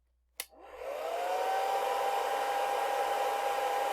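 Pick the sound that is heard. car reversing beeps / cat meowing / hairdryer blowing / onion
hairdryer blowing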